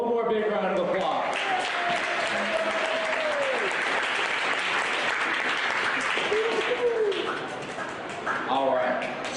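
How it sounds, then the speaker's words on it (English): An audience applauds essay finalists at a youth leadership event, with sustained dense clapping throughout. A voice speaks over part of it. "let's give them one more big round of applause"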